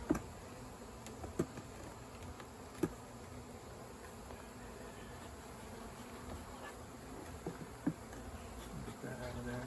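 Soft, continuous buzzing of bees around an open backyard hive as the inner cover is removed, with occasional sharp clicks and taps of handling.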